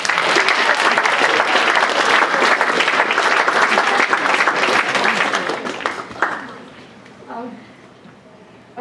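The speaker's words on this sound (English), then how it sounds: "let's give them all a round of applause" Loud, sustained round of applause from an audience at a school assembly, with crowd noise mixed in, fading out after about six seconds to a quieter murmuring room with a few scattered claps.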